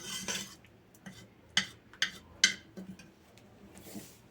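Cooked dal being mashed for soppina sambar, a spoon or masher clinking against a steel vessel in a few sharp, separate taps with softer scraping between them, close and fairly quiet, with no talking.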